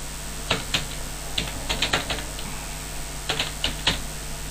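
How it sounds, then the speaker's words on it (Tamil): Irregular keystrokes on a computer keyboard while a name is typed into an online registration form, sharp clicks coming in short bursts with pauses, close and fairly quiet over steady background hum. "ஏ கொடுத்தீங்கன்னா வந்து இப்போ நீங்கள் டைப் பண்ணிக்கலாம்"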